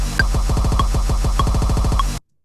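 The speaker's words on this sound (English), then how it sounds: "it kind of stutters like just like a snare roll, but we're doing it with the kick drum" Rapid kick drum hits in a fast, even stutter roll, punchy and loud, with a few brighter accents on top, ending abruptly.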